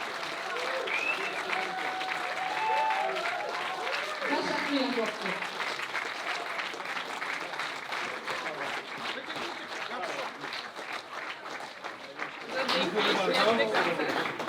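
A concert audience applauds in a hall with a sustained, fairly close round of clapping, while someone speaks and cheers and chatter rise above it, swelling louder near the end.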